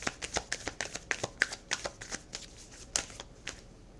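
Tarot cards riffled and drawn by hand in a run of crisp, rapid paper flicks and slaps, close and fairly quiet, with no voices.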